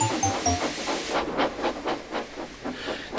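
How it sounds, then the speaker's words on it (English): A cartoon tank engine lets off steam in a series of sharp, rhythmic hissing puffs after a few short whistle-like tones, loud and close with no voices. "He was so excited he kept letting off steam."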